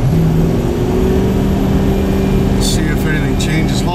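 A Dodge engine drones loud and steady as the driver floors it coming down a small hill, a continuous low roar building under cabin noise with a few brief squeaks late on.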